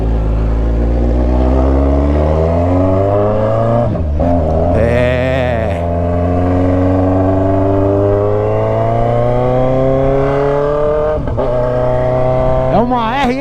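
A Kawasaki Z900 RS motorcycle fitted with a 304 stainless steel header and exhaust muffler idles and revs loudly up close, the engine note rising and falling in pitch with a few sharp throttle blips.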